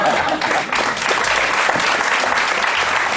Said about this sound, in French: Ils applaudissent en plus.